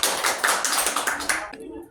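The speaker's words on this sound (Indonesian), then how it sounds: "Tepuk tangan dulu untuk kita semua." A classroom of pupils clapping hands together in a brief burst of dense, brisk claps that stops abruptly, close and fairly loud.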